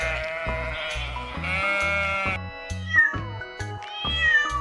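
A cat meows repeatedly in drawn-out, rising and falling cries, loud and near, over a steady rhythmic backing music beat.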